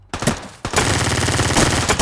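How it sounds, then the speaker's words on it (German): Rapid gunfire bursts from the online battle royale game Ring of Elysium, loud and close, with a short opening shot, a brief pause, then a sustained string of quick shots with no talking. "Schießt doch mit der Pistole."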